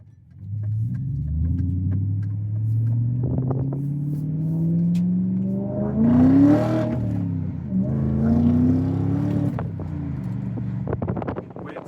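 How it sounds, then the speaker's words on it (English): The engine of a nearly 25-year-old car runs close by, revving up in rising and falling pulls with a deep rumble and some wind noise, and no talking. "the way it sounds, just can't really get new engines to sound like that anymore"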